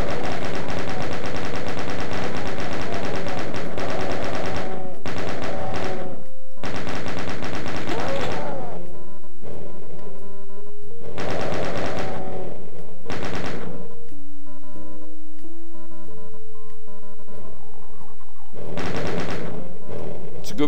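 Rapid bursts of video game gunfire blast loudly at a monster in a Doom-style level, several long sustained volleys broken by pauses, with monster roars and game noises between them.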